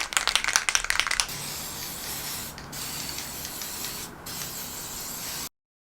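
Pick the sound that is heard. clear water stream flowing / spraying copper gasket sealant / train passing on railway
spraying copper gasket sealant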